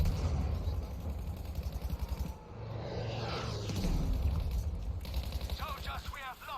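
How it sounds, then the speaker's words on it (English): Tank shells fired in a Battlefield 5 battle rumble as deep booming reports and rapid bursts, mostly distant and muffled, with a voice talking over the combat. "I'm guessing that's another tank they're engaging. Based on the number of shells being fired, at least."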